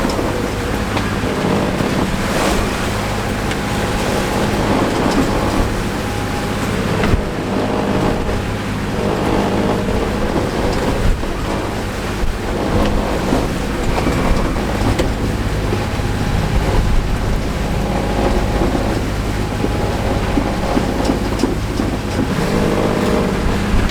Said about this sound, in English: the waves are like actually so huge